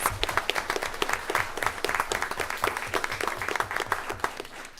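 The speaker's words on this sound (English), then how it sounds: "Let's give them a round of applause." A school board meeting audience claps for students in a brisk, fairly close round of applause, distinct hand claps layered into a steady patter that holds for nearly five seconds.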